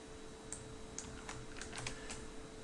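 Fingers tap out a search on a computer keyboard, a quick run of light clicks with short pauses, fairly quiet and close against a faint steady hum, with no voices.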